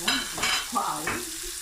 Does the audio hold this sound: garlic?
yes